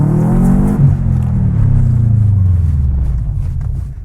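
A small car's engine revs loudly and close by at Tri-City Dragway, a drag strip, while it maneuvers, with a steady throaty roar that rises and falls gently throughout.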